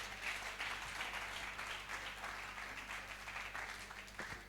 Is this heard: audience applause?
yes